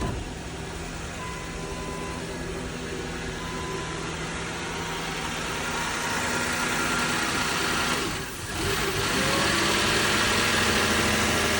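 A car engine idles steadily with a dense mechanical hum and vibration, briefly dipping and stumbling once after the MAF sensor is plugged back in, then recovering to a smooth, slightly louder idle.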